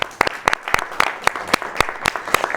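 Sparse, uneven clapping from a small audience at a live political talk show, each clap sharp and distinct with no talking over it.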